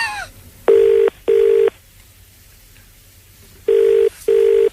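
A phone line rings through to a hotline: four loud, steady electronic ring tones in two pairs, each pair close together, separated by a long quiet gap.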